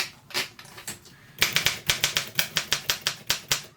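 Keys strike on an Olympia SM7 typewriter, first a few scattered taps, then a quick regular run of crisp, loud mechanical clacks typed close by.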